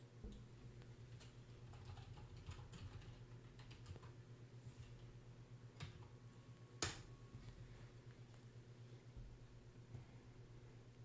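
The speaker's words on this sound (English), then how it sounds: "Let me type this in." Typing on a computer keyboard, quiet and close, with irregular bursts of key clicks and one sharper tap over a low steady hum.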